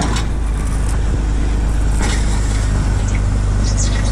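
A farm tractor backs up to push a planter up onto its wheels on a trailer, giving a loud, continuous engine rumble that stays steady throughout without speech.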